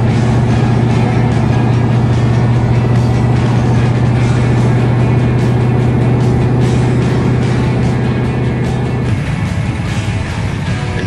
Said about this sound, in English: There's 9 Toranas in a row heading along the M4.